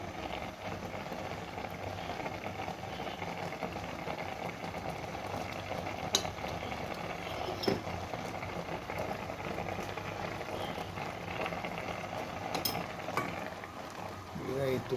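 Ghee sizzling and crackling in a pan while carrot halwa cooks, a steady, close frying hiss with occasional clinks of a utensil against the pan.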